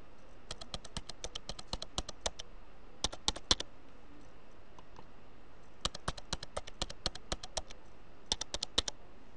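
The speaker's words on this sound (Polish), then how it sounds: "I tutaj wpisujemy sobie nowe hasło, które chcemy zmienić." Rapid bursts of keystrokes on a computer keyboard while entering a new password, several short clusters of crisp clicks separated by pauses, close and clear with no talking.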